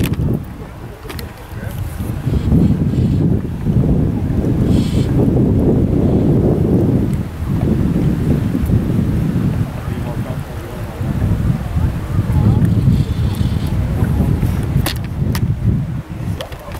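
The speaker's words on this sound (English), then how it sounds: "Breezy in here." Steady, loud wind buffets the microphone on Timothy Lake in Oregon while kayak fly fishing, a broad rushing roar that swells and eases throughout with no other clear sound.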